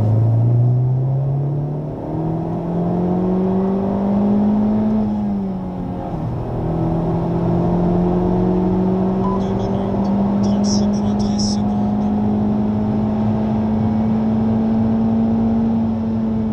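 Honda Civic Type R lapping the Le Mans circuit, heard from inside the cabin as a steady engine drone that climbs in pitch through the gears, dips briefly as it shifts, then rises and holds under continuous road rumble.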